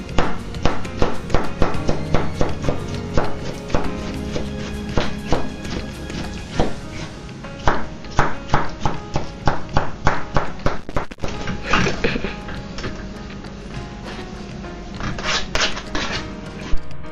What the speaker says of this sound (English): take the remaining apple slices and cut them into smaller bite-sized pieces